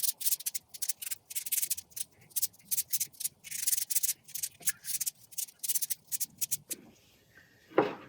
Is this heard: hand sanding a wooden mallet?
yes